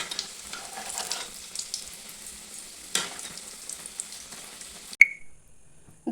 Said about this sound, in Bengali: দুটো ভাজা হয়ে গেছে, তুলে নিয়েছি